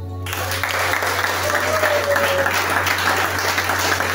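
An audience at a spiritual retreat claps steadily in a sustained wave of applause, fairly loud and continuous throughout, over a low electrical hum in a hall.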